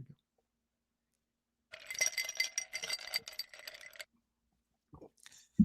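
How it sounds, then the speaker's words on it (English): Glasses clinking together in a toast, a bright rattling clatter of several taps lasting a couple of seconds, close and distinct against near silence, followed by a few faint knocks. "You got me again with the glass noise."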